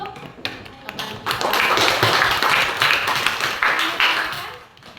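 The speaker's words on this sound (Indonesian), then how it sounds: "beri tepuk tangan untuk teman kita" Classroom students clapping for a classmate after a civics group presentation, a few scattered claps swelling into a dense burst of applause that tapers off, fairly close and moderately loud.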